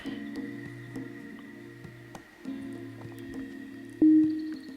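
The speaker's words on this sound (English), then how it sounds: "right now it's just a sine wave" Synthesizer sounding a plain sine wave, steady sustained tones with a few pitch changes and brief gaps, alone at moderate level, ending with a louder held note.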